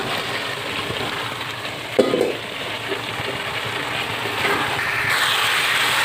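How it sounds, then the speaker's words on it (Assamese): Boiled potatoes with tomato and ginger-chili paste frying in a pan, with a soft steady sizzle and a brief stirring scrape near the middle, close and moderately loud. "এতিয়া এইখিনি ভালদৰে ভাজি ল'ম।"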